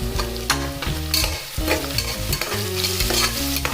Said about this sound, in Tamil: நல்லா ப்ரௌன் கலரில் வர வரைக்கும் வதக்கிட்டு வர அளவுக்கு சால்ட்டு, பச்சை மிளகாய்,